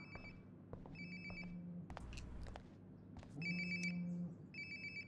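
A phone near a toilet rings in Life Is Strange: Before The Storm. The ringtone comes in several short bright bursts with pauses between them, over a low background hum.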